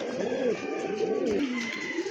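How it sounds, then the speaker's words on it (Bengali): A pair of Rajgolla pigeons coo close by in a continuous, rolling, throaty warble that rises and falls without pause, with no one speaking. "আরেক জোড়া রাজগোল্লা কবুতর।"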